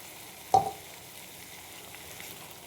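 Spice water poured into a hot pan holding potato and pointed gourd gives a single sharp hiss that quickly fades into a low, steady sizzle, close and without speech.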